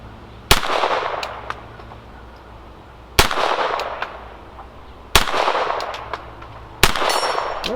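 A Beretta M9 pistol chambered in .22LR fires CCI Mini-Mag rounds: four sharp, loud shots spaced unevenly, each with a short echoing decay, and no voices.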